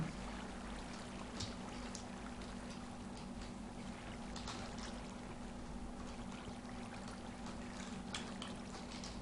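A waterfall in the Minecraft video game flows in a steady, continuous rush of splashing water. It sounds close and fairly even throughout, with no talking.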